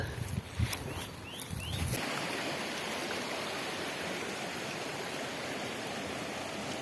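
A forest stream in Brocéliande flows in a steady, close rush of broadband water noise that runs unbroken through the whole stretch, with a few brief knocks and rustles near the start.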